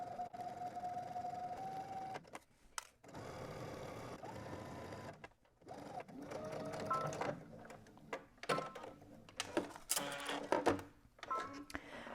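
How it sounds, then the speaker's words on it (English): A sewing machine runs in bursts of rapid mechanical stitching, with brief pauses and small clicks and clunks between runs. "you're going to go ahead to your sewing machine and we're going to stitch"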